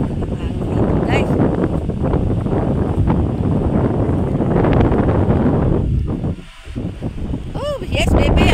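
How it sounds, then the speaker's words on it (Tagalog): Strong wind at the seashore roars and buffets the microphone in a loud, continuous rumble that briefly drops near the end, while people talk under it. "Ang lakas ng hangin"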